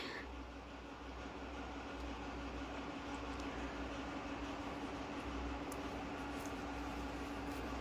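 A steady low rumble of a small amusement park ride train rolling along, continuous and even, with faint clatter and a distant high squeak now and then.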